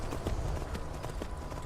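Horse hooves clip-clopping steadily at a walking or trotting pace on a path in Skyrim, close and regular with faint ambient background.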